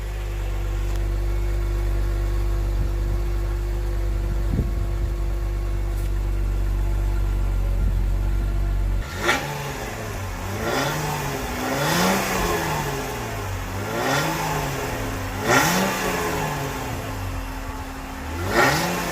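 A Jeep Wrangler JKU with its stock exhaust starts up and settles into a steady, loud idle, then gives a series of rhythmic throttle revs, each one rising and falling, with no talking.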